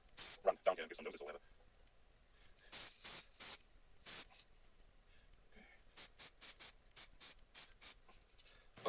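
Soft intermittent rubbing strokes of a cloth applying a second coat of lacquer to a lathe-turned piece, quiet bursts separated by pauses.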